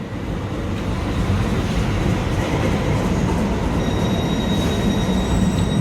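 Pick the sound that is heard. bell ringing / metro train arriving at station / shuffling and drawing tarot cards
metro train arriving at station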